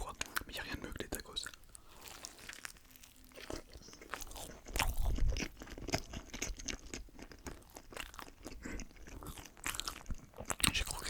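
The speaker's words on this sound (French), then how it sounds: "J'ai croqué sur un truc dur." Crunchy bites and chewing of a big taco, close and intimate in ASMR style, repeated crisp crunches and mouth sounds with soft whispered French speech throughout.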